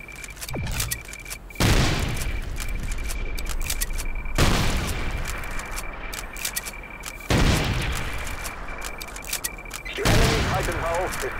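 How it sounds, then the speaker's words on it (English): Video game battle with bomb strike explosions, several heavy booms each followed by long rumbling decay, with crackling gunfire and scrapes in between and a voice speaking under the fighting. "Bomb strike deployed."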